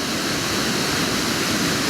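A waterfall spilling past logs amid ferns produces a steady, dense roar of rushing water, loud and unbroken, with no other sounds.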